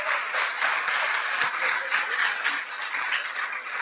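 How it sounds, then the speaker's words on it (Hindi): An audience at a stress-relief program claps together in sustained, dense applause that continues evenly from start to finish. "ताली बजाए जोरदार इनके लिए।"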